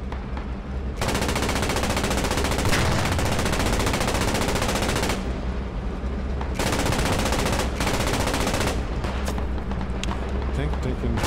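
Gunfire in the Post Scriptum war video game as a tank fires at long range, heard amid dense, continuous machine-gun and battle noise, loud and sustained, with a voice talking over it.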